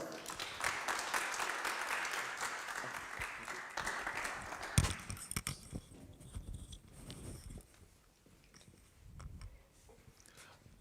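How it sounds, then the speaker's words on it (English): A conference audience in a university lecture hall applauds at the start of a plenary session. Faint, dense clapping fills the first five seconds, then thins into scattered claps and room noise. "Please, a round of applause."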